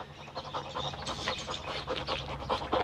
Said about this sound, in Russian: Тебе нравится моя собака? Она большая, да?